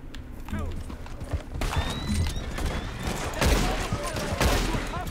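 Gunfire cracks out in Red Dead Redemption 2, with a couple of loud sharp shots standing out over steady horse hoofbeats and outdoor ambience.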